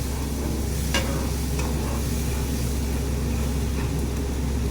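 Dried fish chutney being stirred and fried in a pan, a constant close sizzle with scraping spoon strokes against the pan at irregular moments, steady in level and without talk.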